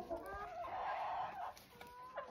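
Backyard hens clucking in their coop, a few soft close calls and low murmuring clucks in quick succession, faint and alone without talk.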